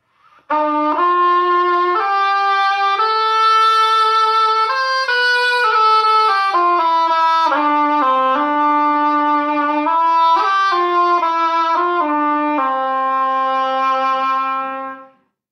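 A soprano shawm plays a bright, buzzy, nasal melody, loud and steady, moving through a sequence of held and stepped notes without pause.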